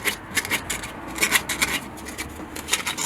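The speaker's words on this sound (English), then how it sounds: "give these a little sanding, get them all nice and shiny" Sanding of the electrical contacts on a 1956 Chevy Bel Air, heard as close, quick scratchy rasping strokes in an uneven rhythm with brief pauses.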